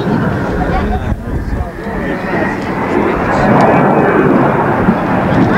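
An A-10 jet performing a tight turn at an air show, a loud continuous engine roar and whine swelling and shifting in pitch as it passes, heard under an announcer speaking over loudspeakers.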